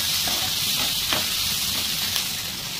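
Chopped green chili and onion sizzle in hot oil in a pan. A loud, steady hiss runs the whole time, with faint crackles and small spatters rising now and then.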